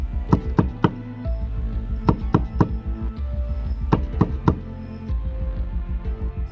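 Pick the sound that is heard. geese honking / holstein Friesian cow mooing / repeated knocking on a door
repeated knocking on a door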